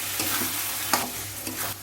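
Chicken gravy with tomato puree sizzles in a pan while a spoon scrapes and stirs through it, a steady close frying hiss with a few sharper scraping strokes, no talking.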